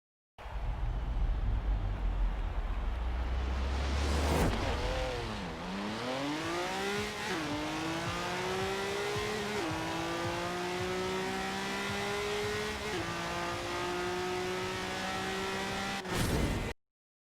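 A Honda NSX-RR in Forza Horizon 4 launches down a quarter mile, its engine note climbing through several gear changes in steady loud pulls, each shift dipping the pitch before it rises again.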